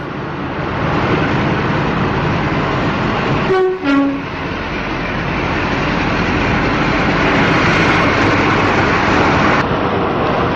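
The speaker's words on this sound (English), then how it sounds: "44005 Cross Fell arrives at Leicester Light Engine and will eventually head for the depot." A British Rail Class 44 diesel locomotive rolls into Leicester station as a light engine, its loud, steady diesel rumble close by throughout, broken by a brief two-tone horn blast partway through.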